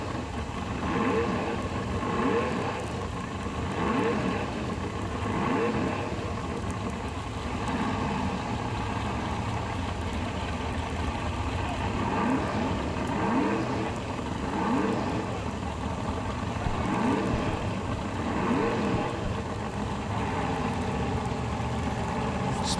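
A 1966 Chevrolet Nova drag car at a drag racing event, a loud continuous engine roar that holds steady throughout, with commentary running over it.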